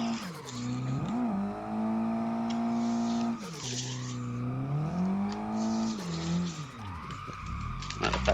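A Nissan 180SX RPS13 in a racing video game revs hard and steadily through the whole stretch, its engine pitch swooping up and down with gear changes and throttle lifts, with tire skids mixed in.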